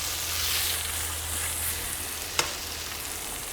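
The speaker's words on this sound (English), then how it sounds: "I've got it set hot, real high, so I'm going to go ahead and put my steaks on one side here" Steaks searing on a Solo Stove SteelFire griddle set on high heat: a steady, close sizzle and hiss of frying with one sharp tick partway through and no talking.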